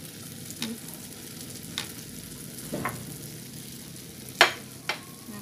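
Tofu skin fries in oil with steady sizzling and crackling, a few sharp pops and clinks of utensils against the pan, no voices.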